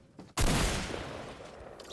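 Gunfire in the video game Fortnite: a sudden loud burst of shots erupts and keeps rattling with a sustained roar after a quiet start, with no talk over it.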